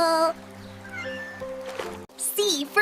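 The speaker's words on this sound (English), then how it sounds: "C for cat." A cartoon cat sound effect, a short run of meows with shifting pitch over a sustained tonal backing, followed by a higher squeal near the end.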